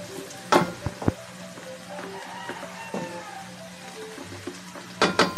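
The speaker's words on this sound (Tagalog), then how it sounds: "gisahin lang po natin siya in 30 seconds" Garlic sautéing in melted butter in a pot for buttered garlic shrimp, a steady soft sizzle with a few sharp clinks and scrapes of a utensil against the pot.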